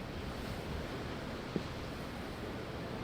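Ocean waves in Tales of Arise wash in a steady, broad roar that stays even throughout with no distinct breaks, alone without any voices.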